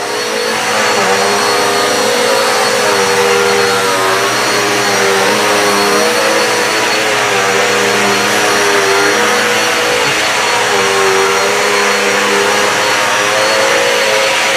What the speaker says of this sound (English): really give the Dirt Devil a chance to pick up as much dirt as possible.